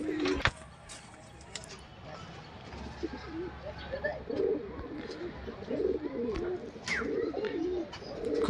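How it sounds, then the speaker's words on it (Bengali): Older domestic flying pigeons, including a female, coo softly and intermittently at close range, with low murmuring calls repeating over a quiet background and occasional faint knocks. "এটা মাদা পায়রা।"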